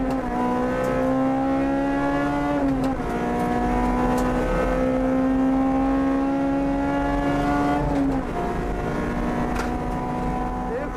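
A Honda Type R front-wheel drive car is driven hard on a track, its engine a loud sustained roar rising in pitch through gears, with sharp shift breaks around three and eight seconds.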